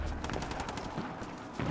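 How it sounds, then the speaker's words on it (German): Rapid bursts of gunfire in Rise of the Tomb Raider crackle continuously in the background, dense and loud, with no one speaking. "ich höre im Hintergrund Schüsse"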